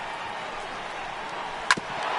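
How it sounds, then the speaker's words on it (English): A single sharp crack of a baseball bat chopping a foul ball at a San Diego Padres vs Atlanta Braves game, one brief distinct hit over steady stadium crowd murmur. "Now a swing and a chopper foul right at home plate."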